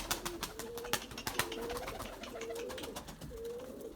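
Erzurum White pigeons coo in repeated low, soft phrases close by while eating wheat, with scattered clicks and pecking taps throughout.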